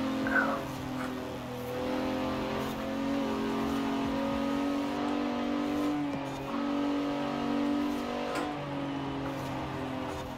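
Cars racing in Forza Horizon 4 near a Cadillac, with a loud continuous engine roar that rises and dips with gear changes and revving, sustained throughout and close.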